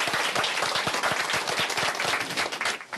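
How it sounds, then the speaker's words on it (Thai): Audience applause breaks out to welcome a dairy farmer from a Hokkaido farm, a dense run of close, lively hand claps filling the whole stretch and thinning slightly near the end. "ทุกท่านคะช่วยปรบมือต้อนรับ"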